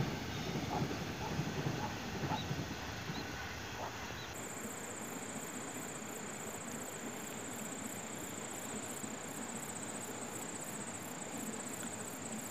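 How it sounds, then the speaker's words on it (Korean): A Honam Line train runs past Wonjeong station, a rural flag stop in Daejeon, giving a steady rolling rumble with faint rhythmic clatter that continues throughout, heard alone with no voices. "기차가 원정역에 서지는 않지만 호남선 열차는 지금도 열심히"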